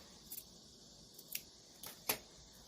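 Scissors snip the seam allowance on fabric for a summer cardigan, making three or four quiet, crisp clicks spaced irregularly over a near-silent background.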